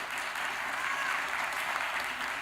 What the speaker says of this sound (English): So please give those students a round of applause, please.